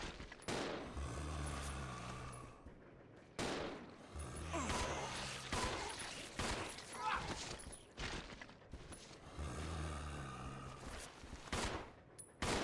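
Gunfire from the video game Resident Evil 0 HD: loud, sustained bursts of rapid shots and volleys that repeat across the stretch with brief gaps between bursts.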